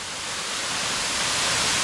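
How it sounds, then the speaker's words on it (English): Highland Waterfall in Tobago roars as a steady, loud broadband rush of falling water that swells slightly over a couple of seconds, with no voices over it. "we have reached the beautiful Highland Waterfall"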